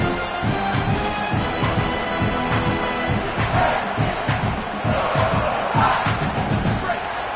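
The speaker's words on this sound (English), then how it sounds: "Listen to this crowd just shaking the girders of this place trying to help their defense." A large stadium crowd at a Penn State football game roars and cheers continuously, loud and sustained, with swelling waves of noise as it urges on the defense.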